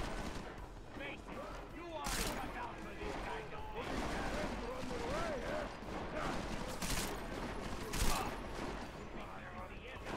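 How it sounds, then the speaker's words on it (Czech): Submachine gun bursts in Deus Ex: Mankind Divided, rapid rattling volleys of gunfire with crashing impacts, dense and loud over a busy game soundscape with a voice speaking over it. "ono to střílí dávkama, proto jsem ten samopal nikdy nepoužíval"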